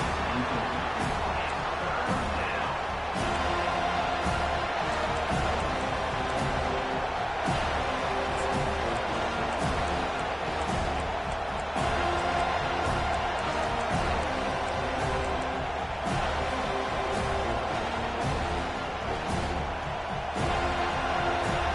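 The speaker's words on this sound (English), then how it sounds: "This crowd bringing the energy and noise early." A stadium crowd roars steadily through a college football video game at FSU, a dense, constant wash of fan noise with scattered thumps, sustained and loud throughout.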